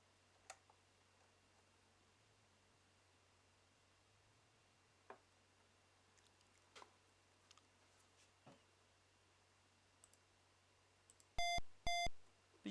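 Two quick electronic beeps from an Amstrad computer game, sharp square-wave tones near the end after a stretch of faint ticks and clicks.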